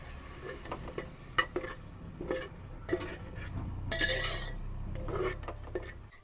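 Spiced masala for a guvar (cluster bean) curry sizzles in oil in a pan and is stirred, with a loud, steady frying hiss and repeated scrapes and clinks of a spoon against the pan.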